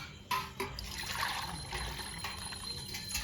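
More water tipped from a big container into a pot of rasiya bhat, a few knocks at the start and then a steady, nearby trickling pour.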